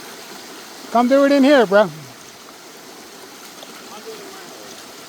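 Rapid stream water rushes steadily and close by during a glacial-till prospecting dig, with a short burst of a man's speech over the flow.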